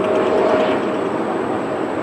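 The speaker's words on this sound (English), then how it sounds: "we're very close to the airport, so there's planes flying around all the time" Airplane flying overhead near an airport by a San Juan waterway, a broad steady roar with a faint high whine, loud and fading slightly over two seconds.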